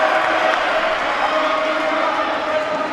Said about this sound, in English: now applauding as he goes for an indoor PB